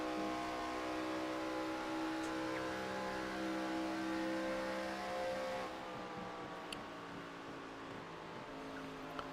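ARCA Series race car engines wail at full throttle around Texas Motor Speedway in a steady, high-pitched drone, the pitch shifting slightly partway through, with no voices.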